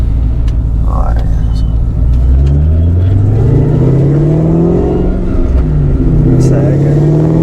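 Kenne Bell supercharged 2.2L SVT Cobra pulls hard through its gears, the loud engine note sweeping upward several times with shifts in between, heard from inside the car with voices talking over it.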